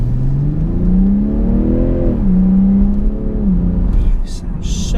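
The engine of a BMW 840i M Sport G14 revs up and settles, its pitch rising, holding, then dropping back to a steady hum, heard from inside the car over road noise, with a few faint clicks near the end.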